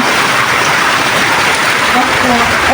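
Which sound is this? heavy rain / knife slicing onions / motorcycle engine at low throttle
heavy rain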